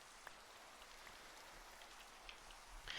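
Rain falling in Minecraft, a soft steady hiss of drops pattering on surfaces, quiet and continuous with no talk over it.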